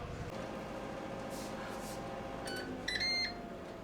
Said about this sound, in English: it just got done cooking, and it made that nice little beep